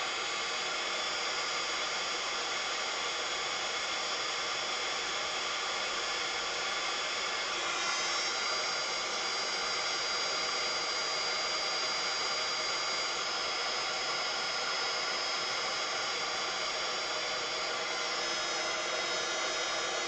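A heat embossing tool blows hot air across a card, a steady, loud, even whirring hum that runs on without a break and with no talking.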